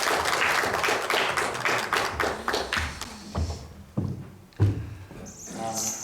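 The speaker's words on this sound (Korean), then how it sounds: "나오실 때 우리 큰 박수로 환영해 주시면 감사하겠습니다." A church congregation claps loudly to welcome a guest coming forward during a Sunday service; dense applause tapers off into scattered claps near the end.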